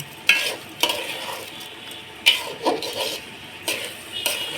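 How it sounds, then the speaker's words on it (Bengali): Rice being lightly fried in soybean oil over low heat for pilaf, a soft sizzle underneath while a spatula scrapes and knocks the pan every second or so, close and clear, no speech. "চাউলটা হালকা আঁচে একটু ভেজে নিতে হবে।"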